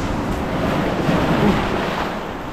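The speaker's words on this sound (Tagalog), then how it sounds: "Lakas ang hampas ng alon." Strong waves crashing near a mountain-area shore, a loud continuous roar of surf with wind buffeting the microphone throughout.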